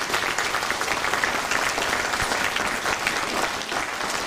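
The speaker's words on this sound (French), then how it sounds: "On laisse la place à Léa, que l'on applaudit également." An audience at a vocal group's concert during a November festival in Levroux claps steadily, a moderately loud, even round of applause from a crowd indoors, with no voices standing out.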